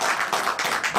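Applause rises from an audience at a Holi Milan poetry gathering, a dense, steady patter of many hands clapping for a brief moment.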